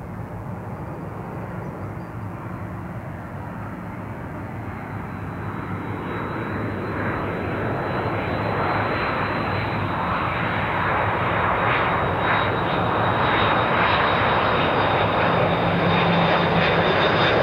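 The last Boeing 747 ever built lands at Chicago O'Hare, a broad, loud jet roar that swells steadily over many seconds with a high whine rising on top.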